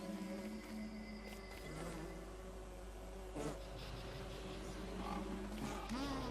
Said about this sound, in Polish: O, jest pszczółka następna.